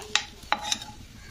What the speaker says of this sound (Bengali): শুকনো লঙ্কাটাকে একটু নাড়তে হবে। তারপরে দিয়ে দিলাম তেজপাতা